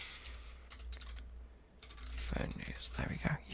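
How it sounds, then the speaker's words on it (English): Fingers typing on a computer keyboard, heard as quiet, close clusters of rapid key clicks with brief pauses between bursts. "You guys like the typing."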